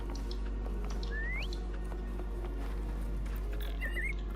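A short rising whistle sounds once, then a brief warbling whistle near the end, over a steady low ambient hum with faint game-like background noise, in the video game Wuthering Waves.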